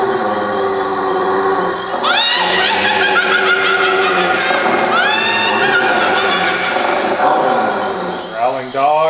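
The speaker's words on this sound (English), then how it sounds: "Growling dog and a cackling witch." A spooky effects track layers a low growling dog with a cackling witch's shrill, wavering laughter, bursts of cackling rising repeatedly over a dense, loud rumbling bed.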